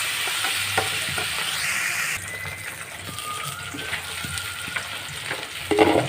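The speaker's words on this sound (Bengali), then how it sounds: "হালকা ফ্লেমে 2-1 মিনিট ভেজে নেব।" Water spinach greens sizzle and hiss in a pan over a low flame, with a steady frying crackle and occasional stirring scrapes, close and fairly quiet.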